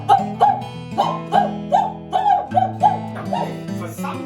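Dog barking in a dramatised theatrical story, a string of about nine sharp, evenly spaced barks, loud and close, some with a whining, yelping edge.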